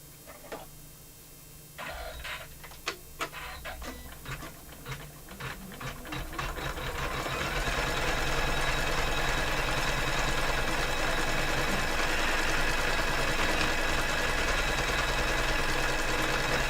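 A sewing machine stitches embroidery on a Father's Day cushion, starting with separate rapid clicks that speed up into a continuous close whirring hum that runs steadily.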